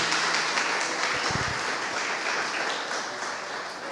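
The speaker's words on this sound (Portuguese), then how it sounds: "Pode aplaudir o Senhor." A church congregation applauding during a worship service, a broad wash of clapping that holds steady and slowly fades, with a brief low thump near the start.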